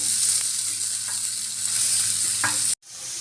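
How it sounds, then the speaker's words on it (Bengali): Garlic and onion frying in hot oil for a kalai greens dish, a steady broadband sizzle with a few brief stirring clatters, fairly loud and close, cutting off abruptly near the end before resuming softer. "কলৌ শাক ভাজির জন্য রসুন আর পেঁয়াজ দিয়ে দিলাম তেলে।"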